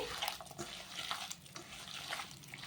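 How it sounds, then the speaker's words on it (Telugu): Water poured by hand into semiya dough being mixed for a snack, a soft continuous splashing trickle with faint rustling, close by and steady throughout, no voices. "కొద్దిగా వాటర్ అయితే వేస్తున్నాను"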